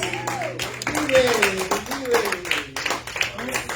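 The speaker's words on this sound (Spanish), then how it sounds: "Vamos a darle un aplauso fuerte a Jesús." A church congregation at a Spanish-language prayer service claps for Jesus, with scattered hand claps running under a prominent voice throughout.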